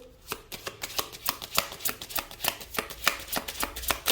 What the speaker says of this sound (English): I'm going to pull some cards to close out your reading.